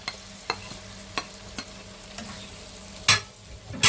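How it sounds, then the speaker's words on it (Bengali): Cucumber pieces and prawns being stirred together in hot oil in a pan, with a steady low sizzle broken by repeated spatula scrapes and clanks at regular intervals, louder clatter near the end, no talking. "আমি চিংড়ি মাছটা এখানে দিয়ে দিব,"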